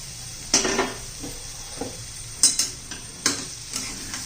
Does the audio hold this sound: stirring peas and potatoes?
yes